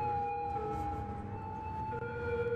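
Ambulance siren in the city-building game Cities Skylines, a steady sustained wailing tone with harmonics over a low rumble of traffic and city ambience, continuous throughout.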